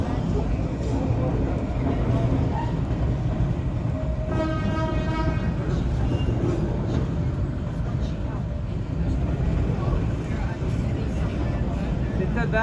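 Train cars roll along the East Broad Top Railroad, heritage narrow-gauge line with wooden cars, producing a steady loud rumble and clatter, with a brief horn-like tone midway and people talking over it.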